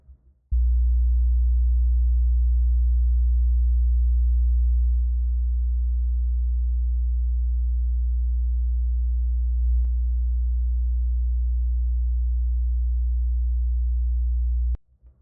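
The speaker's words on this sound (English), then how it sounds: "I'm going to play the sine wave and I'm going to pan it around" A low, steady 60 Hz sine tone, panned around, hums continuously for about fourteen seconds, starting and stopping abruptly, with a slight shift in level partway through.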